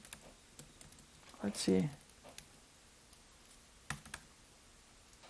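Typing on a computer keyboard while laying out a book or magazine, with light scattered key clicks throughout and a brief spoken remark partway through.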